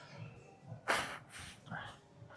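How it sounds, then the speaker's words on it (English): A weightlifter blows his nose in a short, forceful nasal burst, followed by a second weaker blow amid quiet breathing. "I gotta blow my nose again."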